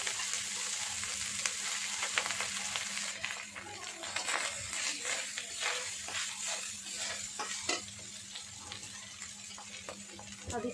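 Cooked rice tossed in a pan with fried ginger and green chili makes a steady loud sizzle, broken by scraping stirs of a spatula against the pan, with a voice talking over it at times.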